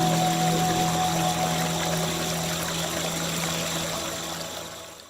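Evening forest tinnitus masking sound from GN ReSound hearing aid software: a steady, dense wash of ambient noise with faint tonal insect or bird lines woven through, continuous and gently fading toward the end, with no talking.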